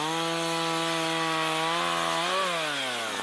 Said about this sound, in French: Jim a troqué sa hache contre une tronçonneuse